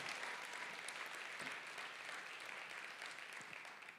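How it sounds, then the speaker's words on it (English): Steady audience applause fills a storytelling night event, dense and continuous clapping from a crowd at moderate distance, holding evenly for several seconds without speech. "Please clap for the historical."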